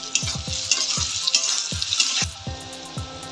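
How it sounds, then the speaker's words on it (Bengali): Onions fry with salt in hot oil in a pan, sizzling and crackling close and loud, with repeated scraping stir strokes at an uneven rhythm. "এখন দিয়ে দিচ্ছি পরিমাণ মতো লবণ, যাতে পেঁয়াজটা ভাজা হয়ে যায়।"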